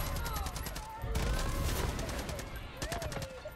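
An AKM rifle fires in Far Cry 5 as rapid, dense bursts of automatic fire, with crackling gunshots and whistling effects over a steady rumble. A voice is faintly present underneath.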